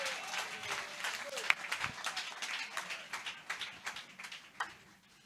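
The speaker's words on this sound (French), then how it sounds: "Si tu es d'accord, acclame le Seigneur très fort." A church congregation claps and cheers after a sermon, giving a continuous patter of hands with scattered louder claps and shouts, fairly close and lively throughout.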